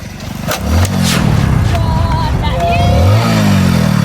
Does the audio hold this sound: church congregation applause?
no